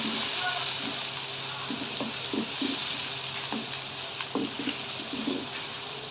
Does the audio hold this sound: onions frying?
yes